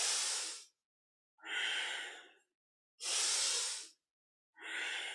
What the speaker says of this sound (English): Deep, full breaths